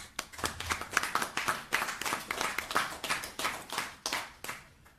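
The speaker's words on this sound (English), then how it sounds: "And I ask us to give him an applause." Applause at a high-level CARICOM closing press conference on Haiti, a steady patter of many hands clapping for about five seconds, moderately distant and fairly quiet, with no talking over it.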